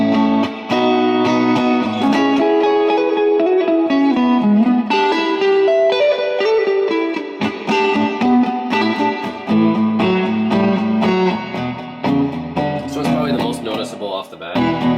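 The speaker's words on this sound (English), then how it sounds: "the plate reverb is probably more noticeable" Electric guitar plays a chord-driven passage through a plate reverb pedal, drenched in a bright, lingering reverb that smears each note into the next; loud and continuous.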